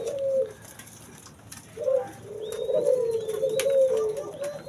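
Puter doves kept for breeding coo in low, repeated phrases, a soft rolling coo near the start and then a longer sustained cooing run, close and clear with a faint higher chirp over it.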